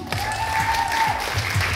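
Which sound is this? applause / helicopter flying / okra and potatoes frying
applause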